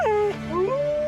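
A lone wolf gives a drawn-out howl that rises and falls in long, sliding tones, loud and close, with a brief dip midway before the pitch climbs again and holds steady to the end.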